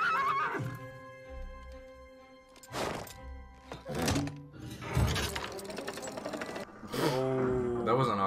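A horse neighs loudly in a scene from the animated film Tangled, its whinnies broken up by dull thumps and clattering effects.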